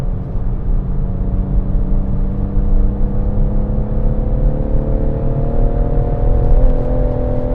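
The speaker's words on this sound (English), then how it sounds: "This car sounds so different to mine." A BMW M140i engine drones steadily and loudly on the Goodwood race track, a low rumble with a rising whine as it gradually builds speed, no voices.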